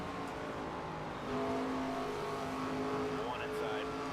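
Race cars lapping Bristol in the NASCAR 25 video game, engine drone holding steady with a rising rev near the end, under a voice talking.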